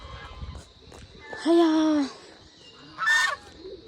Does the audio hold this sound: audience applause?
no